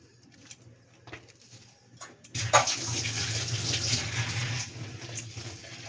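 Tap water starts to run after a few soft clinks and keeps pouring steadily as hands covered in spice paste are rinsed while mashing mung dal, close and fairly loud with no talking.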